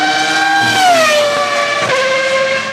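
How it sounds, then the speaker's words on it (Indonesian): A red toy F1 race car plays its electronic engine sound: a loud, close, whining tone that slides downward in pitch and then holds for a few seconds. "Wadidaw, mobil balap F1."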